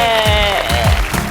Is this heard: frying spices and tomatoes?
no